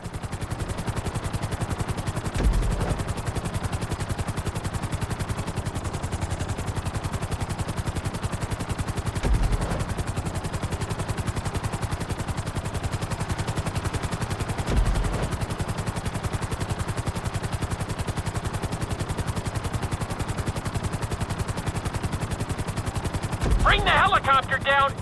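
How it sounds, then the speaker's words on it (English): A helicopter's rotor in GTA 5 chops steadily throughout, a continuous rapid thudding drone with occasional louder bumps. "Bring the helicopter down gently onto the helipad."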